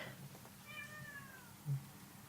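A single cat meows once, a short faint call in a quiet indoor room, with a soft low thump just after.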